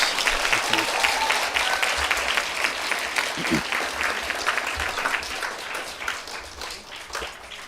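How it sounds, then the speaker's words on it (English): Round of applause for essay winners at a school D.A.R.E. graduation, a full room clapping steadily and fairly loud, tapering off toward the end with a few voices murmuring underneath. "Can we do one more round of applause for all our essay winners?"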